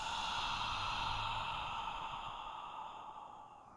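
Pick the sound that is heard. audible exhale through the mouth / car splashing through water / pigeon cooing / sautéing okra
audible exhale through the mouth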